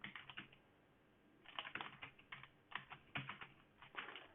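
Keys clatter on a computer keyboard as API keys are typed in quick bursts, pausing briefly before a run of steady close keystrokes.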